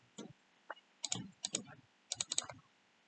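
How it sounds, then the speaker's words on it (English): Mouse clicks on a file in a web hosting upload page, a few sharp clicks in quick pairs and clusters, close and fairly quiet, with no talking. "So if I click on that"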